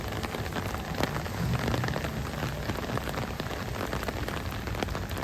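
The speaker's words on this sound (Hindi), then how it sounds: "यहाँ पे हम बरसात में एंजॉय कर रहे हैं" Steady rain falls on a beach during a family outing, a dense, even hiss of drops spattering surfaces close by, unbroken for the whole stretch with no talk.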